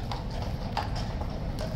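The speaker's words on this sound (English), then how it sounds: "2 Blues and Royals horses being led in by a lifeguard NCO" Hooves of two Blues and Royals horses clop on hard ground as a Lifeguard NCO leads them in at Horse Guards, a few unhurried footfalls close by over a steady low rumble of outdoor background.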